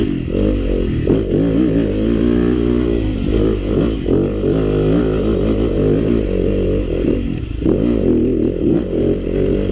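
A KTM 300 XC dirt bike runs steadily along a trail, its engine loud and close throughout, with shifting revs, clatter and scraping from the ground.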